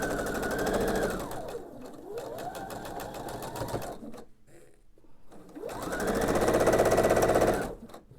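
A sewing machine stitches pieced quilt blocks for a diamond-patterned baby quilt. It runs in two steady, whirring bursts, one at the start and one near the end, with a short quiet stop in between.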